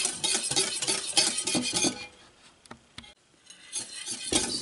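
A spoon clinks and scrapes rhythmically in a pot, stirring a thin alcoholic gummy bear mixture at close range, then a short pause and a few lighter scrapes.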